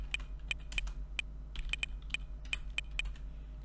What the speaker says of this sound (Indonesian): Caranya ya tinggal ketikkan saja di sini ahref